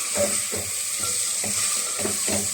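Chicken masala sizzles and crackles in a hot pan while a utensil stirs and scrapes in a repeating rhythm, close and steady with no talking.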